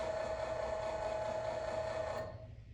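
A battery-powered valve actuator motor drives the valve closed, giving a steady close electric whine with a constant tone that cuts off near the end, leaving a faint hum.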